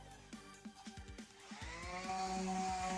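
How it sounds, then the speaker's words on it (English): A DeWalt power sander working on wood in a basement remodel, starting with uneven pulses and then settling into a steady, rising whine with a sustained tone, close but fairly quiet, with no talking. "My little DeWalt sander comes in handy."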